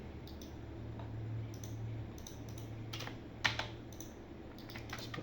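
Keyboard shortcuts for Revit are tapped out on a computer keyboard in scattered bursts of crisp key clicks, with a few sharper, louder presses near the middle. The keys sound close over a low background hum, and no one talks.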